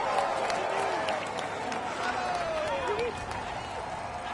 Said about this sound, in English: He'll do his utmost to produce the best time and retain his jersey. Come on, let's give him a cheer.